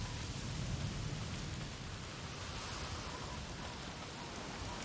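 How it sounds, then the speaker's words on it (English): Steady rain in the video game Days Gone during a sawmill horde mission, a dense, even hiss of falling water filling the whole scene with faint low rumbles beneath and no voices. "Of course, it has to be raining for this."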